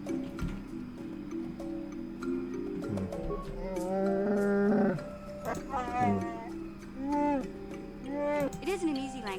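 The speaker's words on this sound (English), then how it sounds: "It isn't an easy language to learn, what with all the growls and howls." Wookiee growling speech from the Knights of the Old Republic video game: a run of throaty, warbling growls and howls with rising and falling pitch, fairly close and loud over a low game backdrop.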